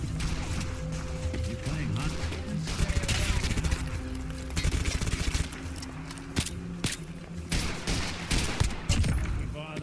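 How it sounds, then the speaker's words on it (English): Gunfire from a heavily modded Fallout 4 survival game, a rapid fusillade of sharp shots and bursts recurring across the stretch, with spoken voices over it. "There's someone firing."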